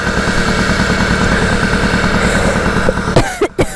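A moped engine that has not been started for several days, smoking heavily, runs with a steady low chugging idle pulse that stays loud and close, then breaks off into a few sharp knocks and clatter at the end.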